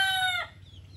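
Talisayin labuyo rooster, a short close crow or loud cluck that ends abruptly and fades into quiet farmyard background.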